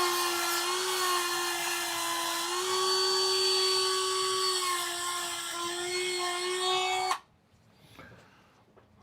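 A Dremel rotary tool cutting with a loud, steady high-pitched whine that holds for about seven seconds, then cuts off abruptly, leaving a quiet room with faint handling noise.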